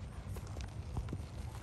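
A horse walking with a child riding for the first time, its hooves giving soft irregular clip-clops over a steady outdoor rumble, fairly close and moderately loud.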